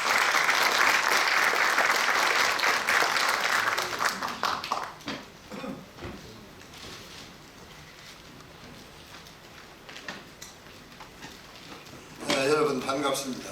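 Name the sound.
audience applause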